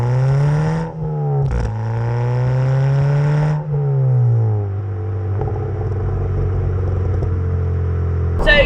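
Ford Fiesta Zetec S with a new loud aftermarket exhaust, its engine droning and rising through the gears with a sporty note, then settling into a steady rumble, close and loud.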